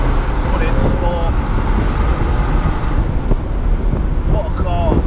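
A Bentley Continental GTC convertible driven in sport mode on the road, its engine and tyre roar steady and loud under heavy wind rush, with someone talking over it.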